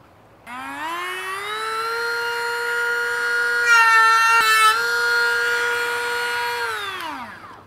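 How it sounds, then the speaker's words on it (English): A Dremel rotary tool spins up to a steady high whine while shaving off a plastic tab on a DIY mash tun, pitch dipping slightly under load midway before winding down; close and alone. "I'm going to shave it off with a Dremel tool"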